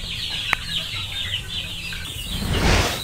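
Young chickens hatched in an incubator chirp and cluck steadily at close range, with a louder burst of fowl calls and rustling toward the end.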